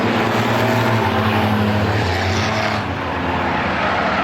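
Several race cars in a Six Shooter feature at Star Speedway roar loudly and continuously past, their engine pitch shifting as they jostle for position late in the race.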